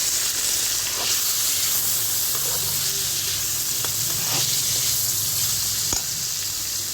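Homemade potatoes cut like French fries, dropped into a pan of hot oil with garlic while cooking a new-style cabbage dish, sizzle steadily and loudly, with a few faint stirring clicks and no voices.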